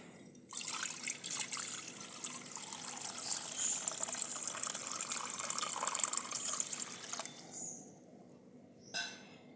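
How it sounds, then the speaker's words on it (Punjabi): Water pours steadily into a kadai for cooking pasta for several seconds with a hissing, splashing rush, then stops; a couple of brief clinks follow near the end. "ਹੁਣ ਆਪਾਂ ਪਾਣੀ ਪਾਵਾਂਗੇ"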